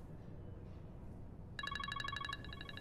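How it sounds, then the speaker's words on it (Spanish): A telephone starts ringing partway through, a fast electronic trilling ring in pulsed bursts over a low background rumble, fairly faint and distant. "Tu teléfono."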